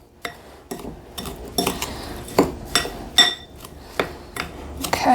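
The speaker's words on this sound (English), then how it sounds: "mix that in and try to incorporate it" Spoon scraping and clinking against a bowl while cheesecake crust crumbs are mixed with melted butter, giving a run of irregular clattering strokes that are close and fairly loud, with no voices.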